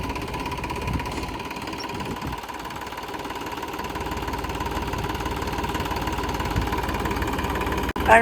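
A farm tractor engine idles steadily and close by through the whole stretch, a continuous low rumble with a faint knocking beat that is uniform in level and has no speech over it.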